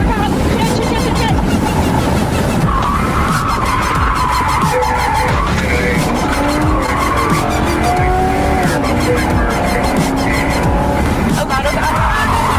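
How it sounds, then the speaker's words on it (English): A car drives hard and skids with squealing tires during a police pursuit, with loud, continuous engine and road noise throughout, while voices talk over it. "there's another car."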